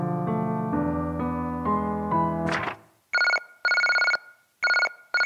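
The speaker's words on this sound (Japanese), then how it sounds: "よう電話鳴るね今日は。" A telephone rings in three loud, evenly spaced electronic bursts with short silences between, following a stretch of sustained piano-like music that fades out.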